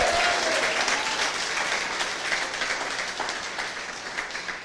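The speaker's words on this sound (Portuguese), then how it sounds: "Dê uma salva de palmas ao Senhor bem alto" A large church congregation applauds continuously, loud and dense, slowly easing in intensity over a few seconds.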